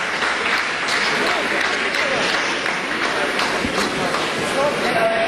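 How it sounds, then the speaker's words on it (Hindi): A dense, continuous applause from scientists in a control room during a Chandrayaan lunar landing, loud and unbroken, with some voices mixed in. "आप इस तालियों के गड़गड़ाहट को सुन सकते हैं"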